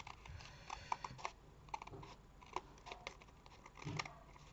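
Scissors snip through scrap paper while a handmade card is cut out, a quiet run of short crisp cuts in an uneven rhythm, close by with no voices.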